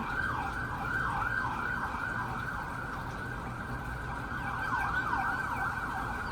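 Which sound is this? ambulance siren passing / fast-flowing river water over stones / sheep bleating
ambulance siren passing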